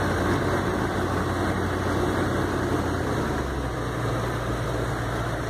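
A HMMWV engine drones steadily with a low idle-like rumble and vibration while the vehicle drives through fresh, untouched snow, a continuous close sound with no talking.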